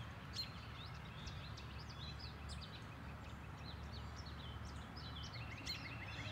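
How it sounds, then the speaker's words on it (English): Birds chirp and sing faintly in the distance in spring, over a steady low background hum, with scattered short calls throughout. "Can you hear the birds?"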